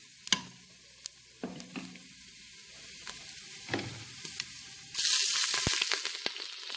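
Tempering spices sauté in hot oil, scattered spoon taps and scrapes over a quiet sizzle that turns loud and dense near the end as more goes into the pan; close, with no talking.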